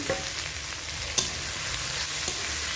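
Large freshwater prawns frying in a pan with spices, turmeric and salt, a steady close sizzle with a few brief stirring clicks, no voices.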